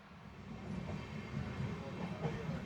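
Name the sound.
Matsyagandha Express LHB train running into the Bandur tunnel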